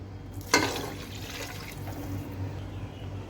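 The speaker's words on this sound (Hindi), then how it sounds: "और साथ में डाल दूंगी पानी।" Water poured into a cooking pot of spices, salt and oil while making a mince and onion (qeema) dish. It opens with a sudden splash, then settles into a quieter steady pour with no talking.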